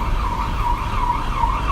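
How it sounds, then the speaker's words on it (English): Fire engine and ambulance sirens wail along a Seoul street, a steady wavering siren tone over constant traffic rumble and city noise, moderately loud and unbroken throughout. "quite a few fire engines, ambulances, as noisy as the ones in the UK"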